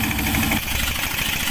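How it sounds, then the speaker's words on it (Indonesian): Car engine driving gold mining machinery at a Kalimantan dig site, a steady loud rumbling idle with rough low vibration, running continuously and close by with no talk. "Mesinnya ini pakai mesin mobil"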